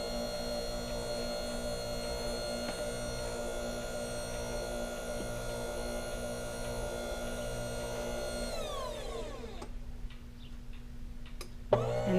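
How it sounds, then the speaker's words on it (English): An electric pasta making machine runs with a steady motor hum and faint ticking, then the tone sweeps downward as it reverses and winds down to near quiet, ending with a small clunk. Alone, with no talk. "now the machine is backing up because it wants to get the rest of the pasta all out of there"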